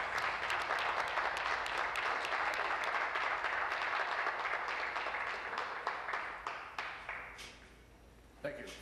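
Sustained applause from members in a parliamentary chamber honouring a colleague, dense and steady for about seven seconds before thinning into scattered individual claps and fading out.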